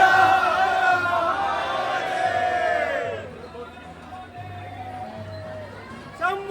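Pilgrims queue at Omkareshwar temple, a busy indoor crowd murmuring and calling out with overlapping voices and bright ringing tones that fade partway, leaving a lower hubbub and scattered shouts.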